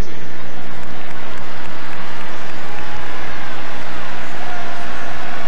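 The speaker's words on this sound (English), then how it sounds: "Boy, this crowd, they've been on edge this entire second half." Large football stadium crowd at an LSU at Kentucky college game in 2002, a steady dense roar of cheering and applause filling the air throughout, loud and continuous with no single voice standing out.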